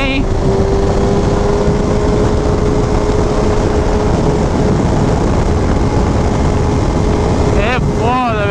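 A 2004 Suzuki GSX-R 1000 SRAD K4 sport motorcycle engine roaring hard and rising in pitch under acceleration, loud and close with heavy wind rush, then a quick shift-like pitch sweep near the end; a rider talks over it.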